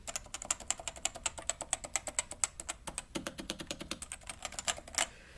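Typing on a Topre Type Heaven keyboard with rubber-dome Topre switches: a close, steady run of quick keystrokes with soft, muted thocks and a brief pause near the middle, no voices.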